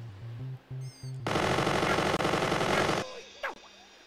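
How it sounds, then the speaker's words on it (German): Uzi fire in the Worms video game: after a few short musical beeps, a dense, loud burst of rapid automatic gunfire rattles for about two seconds, then cuts off into lighter game effects. "Ich baller mal mit der Uzi so ein bisschen in die Richtung."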